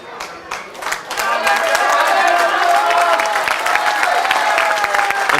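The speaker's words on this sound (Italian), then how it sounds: "Mentre esce tra gli applausi" Loud, sustained applause from a crowd at a regional doubles bocce final for the Trofeo Maurizio Anedda, as a player leaves the court; clapping swells after a brief start and holds steady and dense throughout.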